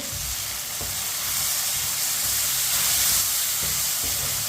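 Chopped tomatoes and green chillies sizzle and fry steadily in a pan for chicken tinda curry, a continuous close hiss with a few soft stirring knocks and no voices.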